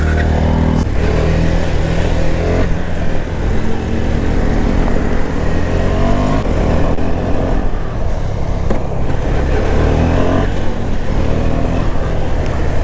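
A KTM Duke 390 motorcycle and a TVS Ntorq 125 scooter riding along, their engines a loud, steady, close drone throughout, with slight swells in revs and no talking.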